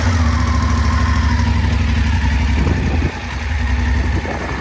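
A 2019 BMW F850GS Adventure motorcycle fitted with an Akrapovic exhaust idles steadily and loudly up close, its low engine drone continuous, with a slight drop in level partway through.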